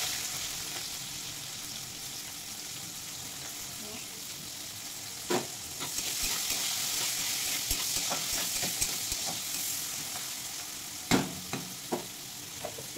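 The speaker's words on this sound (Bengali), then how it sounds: "পেঁয়াজটা একটু লাল লাল করে ভেজে নেব।" Chopped onions frying in a pan for a malai chicken curry, a steady soft sizzle with occasional spatula scrapes and stirring clicks, fairly quiet and close.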